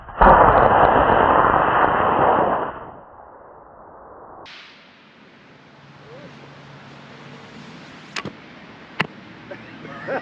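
A model rocket firing off its launch pad, a loud roaring whoosh for about three seconds that cuts off and fades into wind and faint outdoor noise, with a couple of sharp distant clicks later.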